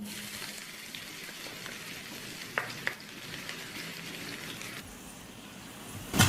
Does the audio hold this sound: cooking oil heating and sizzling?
yes